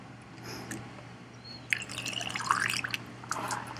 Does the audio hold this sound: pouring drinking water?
yes